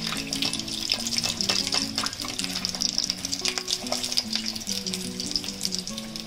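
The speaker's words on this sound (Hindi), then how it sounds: "इन पे ऐसे धीरे धीरे आपको तेल छटकते रहना है ताकि अंदर से पके हैं।" Vada pav frying slowly in oil over a low flame for Mumbai-style street food, a steady close sizzle with crackling pops throughout, under a faint tonal hum, no talking.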